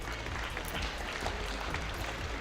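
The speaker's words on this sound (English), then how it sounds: "Give yourselves a big round of applause." An audience gives itself a round of applause, a soft, distant wash of many hands clapping with a faint crowd murmur, steady throughout.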